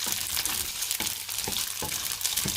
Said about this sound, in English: So I'm going to be frying my rice.